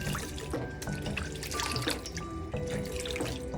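Tap water runs steadily into a sink while fuzzy Beyerdynamic DT series headphone ear pads are rinsed under it, a close, continuous splashing stream with small drips and gurgles and no voices.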